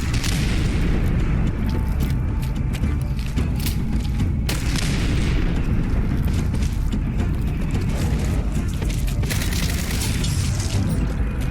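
Loud, continuous rumble and clatter during Fallout 4 combat, an explosion's heavy boom blending into mechanical rattling and crunching debris that stays dense and close for the whole stretch.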